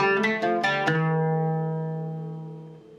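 An oud plays a Samai Bayati al Aryan passage using the doubling-up technique: four quick plucked notes in succession, then a final note that rings out and slowly decays, heard alone and up close.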